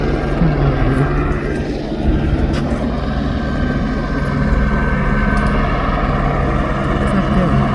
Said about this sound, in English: There's a helicopter. Coming over here.